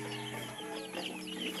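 Chickens about fifty days old in a free range breeding house cluck softly, short overlapping calls sitting on top of a steady hum of background noise.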